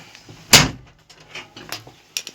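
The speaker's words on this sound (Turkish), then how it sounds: "Kapıyı da kapatalım." A New Holland TT50 tractor's cab door shuts with one sharp, close thud, followed by a few softer clicks and rattles of the latch and cab fittings in a quiet cab.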